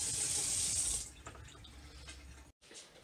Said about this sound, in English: just put some water on top like that to keep these submerged under